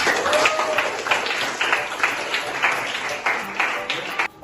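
Students in a classroom clap together in a brief burst of rhythmic, fairly close applause that keeps a steady beat for several seconds.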